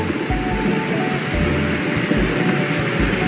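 Heavy rain hisses steadily across the whole stretch while low rumbles of thunder roll beneath it in repeated swells.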